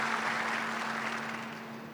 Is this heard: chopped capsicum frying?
no